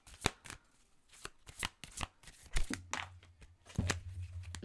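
Gaia oracle cards are shuffled by hand in a quiet room: a close series of soft, papery riffles and slaps in irregular bursts, with a low steady hum coming in partway through.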